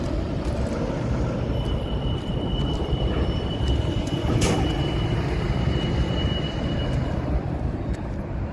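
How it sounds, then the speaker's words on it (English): A train rolls past at Mammoth Spring State Park, a steady loud rumble of wheels on rails with a faint high squeal and brief metallic clanks, no voices over it. "You can hear the train, can you?"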